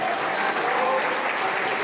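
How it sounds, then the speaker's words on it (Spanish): A church congregation applauds together in a steady, dense wash of clapping that holds at an even level throughout, with no clear voices standing out. "Denle un aplauso al Señor."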